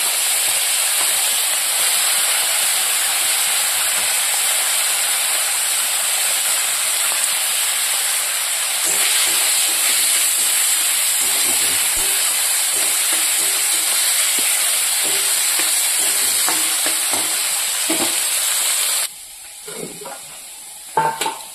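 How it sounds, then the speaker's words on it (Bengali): Cleaned dried fish frying in hot oil with black cumin, a loud steady hissing sizzle that continues close up for most of the time and then drops away abruptly near the end, leaving a few faint clinks. "এবার মাছটাকে আমি ভেজে নেবো।"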